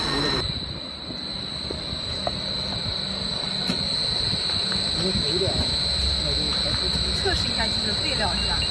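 Two motors on a PVC wire machine run together in sync, giving a steady mechanical hum with a high, constant whine, while people talk over the machine.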